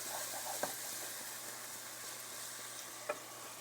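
Red pepper flakes, oil-cured olives and capers stirred in a hot oiled pan with tomato, a soft steady sizzle broken by two sharp spoon scrapes against the pan.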